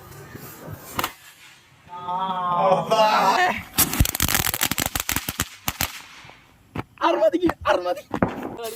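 Firecrackers set off for the Vishu festival, a burst of sharp cracks in rapid irregular succession like a string going off, with scattered pops before and after; voices talk intermittently around the blasts.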